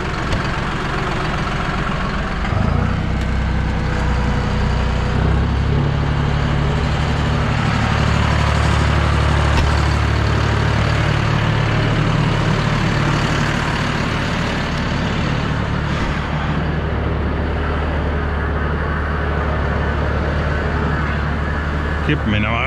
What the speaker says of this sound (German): So, jetzt schalten wir die Zapfhelle ein, damit der schon mal ein bisschen mischt.